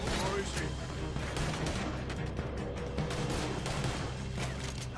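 Continuous gunfire in Red Dead Redemption 2, dense overlapping shots forming a steady rattling barrage with voices talking underneath.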